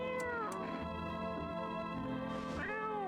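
A cat meows repeatedly in the horror game No, I'm Not a Human, drawn-out cries that rise and fall over a constant low background hum, with no talking.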